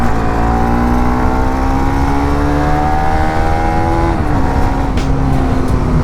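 Bajaj Pulsar NS200 motorcycle engine revving up steadily toward its redline near 8,500 rpm, a loud, close, rising whine that peaks, drops briefly and climbs again, with no talking.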